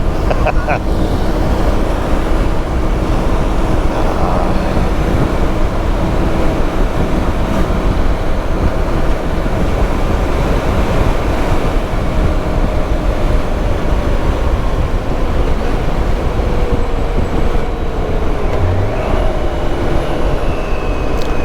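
Constant loud wind roar buffeting a rider on a moving BMW K1600 GTL touring motorcycle, with engine and road rumble beneath, steady throughout the ride.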